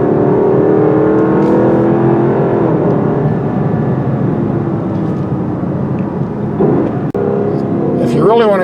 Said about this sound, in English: when they hear this loud exhaust, they'll run away long before the car comes along.